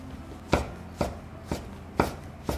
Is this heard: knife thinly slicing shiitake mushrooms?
yes